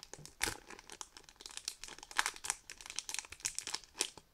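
A foil wrapper on a Pokémon Gold booster pack is torn open up close, with steady crinkling and crackling that builds into sharper tearing snaps, heard alone.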